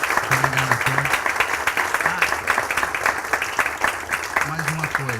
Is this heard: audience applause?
yes